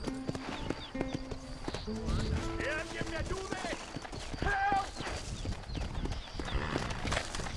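Horse hooves clip-clop steadily in the video game Red Dead Redemption, with a neigh mixed in, while voices talk and call out loudly over the trotting.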